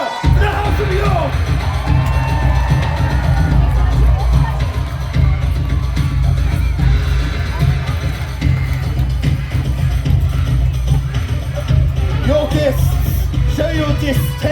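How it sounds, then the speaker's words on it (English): A crowd at a War of the Roses live jousting show at Warwick Castle cheers, whoops and yells in a sustained, loud swell, with a voice calling out over it. "A cheer for the House of York!"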